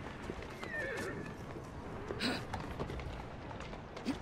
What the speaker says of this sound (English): Yeah, keep going, horsey.